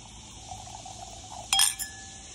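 A glass gives a single bright clink, likely against a bottle, at a retirement toast, heard once near the end over a quiet room hum.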